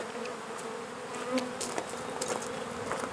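Honey bees buzz steadily and close while being shaken off a hive frame during a spring beekeeping class in Swanzey, New Hampshire, with a dense droning hum throughout and no talk.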